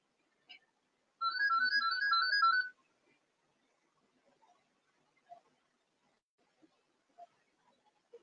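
A phone ringtone plays one short burst of bright, warbling electronic tones, clear against near silence, followed by a few faint clicks.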